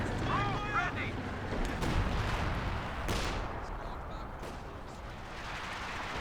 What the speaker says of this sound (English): Sexton Barrage is coming on in